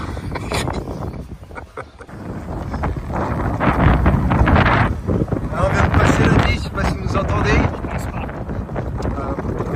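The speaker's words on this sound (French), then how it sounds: "on arrive au 11 là, il y a un gros vent." Strong wind gusting across a golf course in Dubai, roaring and buffeting the microphone loudly throughout, swelling and easing in waves, with faint speech underneath.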